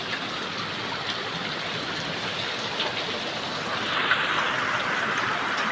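Heavy rain pours steadily in a continuous broadband wash with no pauses, growing slightly louder toward the end, with no voices over it.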